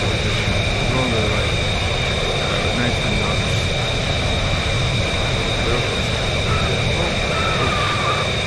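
A jet aircraft roars during takeoff in a VR video game, a loud, steady, continuous engine rumble and whine filling the whole stretch, with a voice talking over it.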